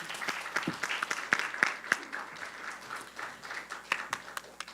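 A round of applause for the top six finalists at a high school changemaker competition, a modest audience clapping with distinct, uneven hand claps, fairly soft and slightly distant, sustained through the moment.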